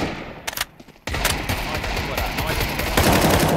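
Rapid bursts of Counter-Strike 2 gunfire crackle loudly and continuously, with a brief quieter gap before the shooting resumes.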